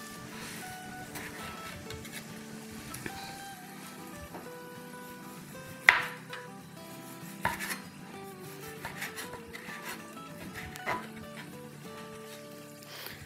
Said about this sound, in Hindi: मेरे पास यहाँ रेडिश है, यानी लाल वाली मूली, ये काट लेते हैं।